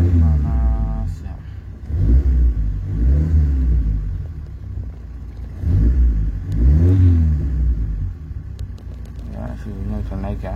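A Mazda 323 car engine is revved in repeated surges to warm it up, rising and falling roughly every few seconds at close range, with someone talking over the engine between revs.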